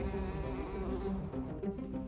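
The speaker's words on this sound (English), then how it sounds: "it's called a leafcutter bee" A leafcutter bee buzzes steadily and loudly at close range while cutting a circle from a garden leaf, its drone continuous for the whole moment.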